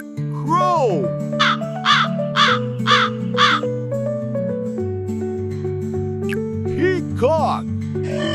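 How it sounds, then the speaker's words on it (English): A crow caws in a quick series of about five harsh, evenly spaced calls, loud and near, over a sustained musical backing with a few sliding tones. "Crow."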